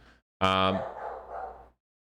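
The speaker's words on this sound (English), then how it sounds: "I got a dog barking." A single dog bark or yelp, loud and close, followed by a drawn-out whine as the dog is shut outside wanting in, heard briefly on its own.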